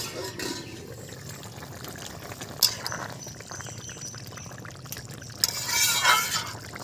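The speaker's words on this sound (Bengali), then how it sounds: "ঝোল ফুটছে" Shol fish korma broth simmers and bubbles in a pot with a steady low burble, close by, with a few louder splashy bursts.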